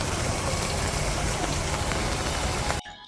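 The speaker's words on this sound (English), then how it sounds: "It's raining a little, but we have taken 2 umbrellas from the hotel and we are fine." Light rain falls steadily on a city-centre street, a dense, even hiss with small patters that runs loud and unbroken, then cuts off abruptly near the end.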